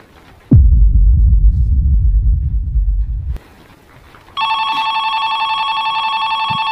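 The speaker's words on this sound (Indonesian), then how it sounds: "tiba-tiba telepon berdering" A loud, deep rumble is followed by a pause, then a telephone rings with a steady electronic trill that carries on to the end.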